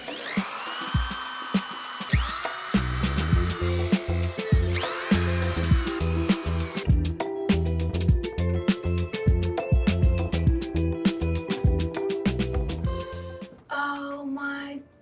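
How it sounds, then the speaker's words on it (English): Power drill boring a 1/8 inch bit into a wooden bench, heard as a steady whirring drill run with repeated bursts and stops, close and loud throughout, ending in a brief pause. "You're about to drill into this beautiful bench"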